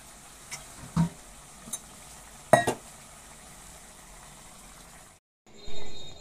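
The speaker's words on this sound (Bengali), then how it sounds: "এবারে কিছুক্ষণ খুন্তি দিয়ে নেড়ে সমস্তটা ভালোভাবে মিশিয়ে নেব" A spatula works through ash gourd and poppy seed paste in a pan, making a few soft scrapes and clinks over a quiet background before a brief pause and one last stroke.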